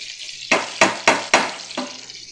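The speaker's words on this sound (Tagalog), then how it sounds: "So, lagay natin yung bawang." Garlic fries in butter in a pan for buttered shrimp, giving four quick sizzling bursts as it is stirred, then a softer fifth, loud and close with no talk.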